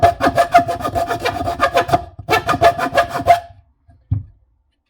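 A Milwaukee folding jab saw fitted with a thick-toothed Sawzall blade rasps through wood in quick, rhythmic back-and-forth strokes, loud and close, pausing briefly mid-cut before a final short scrape and quiet.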